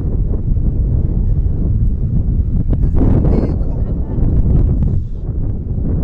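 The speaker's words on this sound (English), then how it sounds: "wind is picking up. It's getting a little windy." Steady wind buffeting the microphone at a beach in Freeport, Texas, a loud continuous rumble with gusts that swell and ease throughout.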